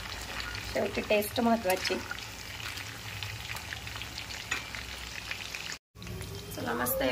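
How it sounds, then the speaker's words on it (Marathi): Chicken 65 pieces deep frying in hot oil at home, a soft steady sizzle and crackle in the background while a person talks over it. "हा छान कलर आलाय, मस्त फ्राय होत आहे."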